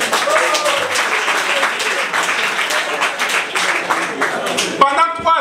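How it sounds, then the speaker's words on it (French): An audience at a school orientation day for new baccalaureate holders claps in sustained, dense applause, loud and close. A voice speaks briefly at the end as the clapping fades. "Applaudissez pour vous-même."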